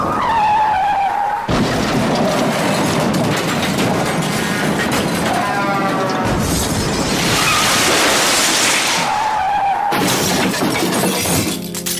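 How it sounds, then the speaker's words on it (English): A car crash effect with tires skidding and screeching, then a loud smash of shattering glass and crumpling metal, filling the whole stretch loudly with no talk over it. "That's you in a car crash."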